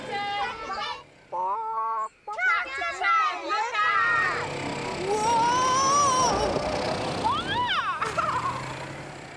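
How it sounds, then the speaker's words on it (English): Farm chickens clucking and calling close by, mixed with a voice and adult talk over outdoor background noise. "We're off to see the chickens."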